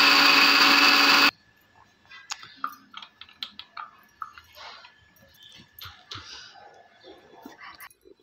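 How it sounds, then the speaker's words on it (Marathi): Mixer grinder grinding ginger, coriander and garlic, a short loud whirring burst at the start that cuts off abruptly, followed by light clinks and taps of the jar and utensils. "व थोडासा लसूण टाकून बारीक करून घ्यायचं आहे"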